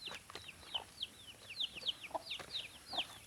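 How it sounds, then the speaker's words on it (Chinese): A free-ranging hen with her chicks in a mountain village, giving a steady run of high, rising peeps and soft clucks, fairly faint and close, with no talk. "这里好多小鸡仔嘞。 是啊，母鸡带的小鸡呀。"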